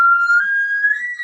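An elk call imitated by a person, a single steady high whistle-like note that rises slightly near the end, close and clear with no other sound around it.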